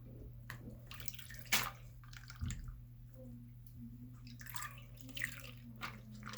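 Fidget toys, including a Poppet, being washed in cold water, with soft sloshes, drips and splashes over a low steady hum, quiet and close.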